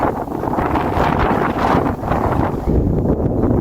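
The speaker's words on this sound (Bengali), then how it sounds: "প্রচন্ড বাতাস আর মেঘ আর বৃষ্টি, সেই রকম বৃষ্টি শুরু হয়ে গেছে" Strong wind roars and buffets the microphone continuously in a storm with heavy rain, loud and unbroken with a rushing wash, in a village near the Chapainawabganj border in Bangladesh.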